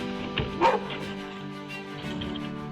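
A dog gives a couple of short barks with a whimpering yip, fairly close, against a steady background hum.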